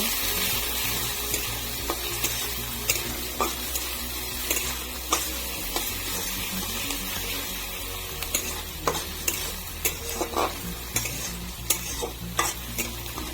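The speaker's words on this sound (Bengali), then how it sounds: "কুচি দিয়ে ভালো করে নাড়াচাড়া করে কালারটা বদলে নিব" Chopped onion being stirred and fried in a pan for a semolina breakfast dish, with a steady loud sizzle and repeated sharp scrapes and clicks of the spoon against the pan, and nobody speaking.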